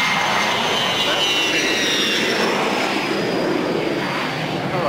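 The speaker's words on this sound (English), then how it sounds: "airplanes make noise" Steady, loud broadband roar of a B-24 Liberator's aircraft engines, continuous and unchanging throughout with no breaks or distinct events.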